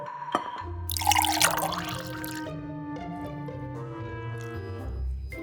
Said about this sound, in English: Let's add in 1/4 cup of water.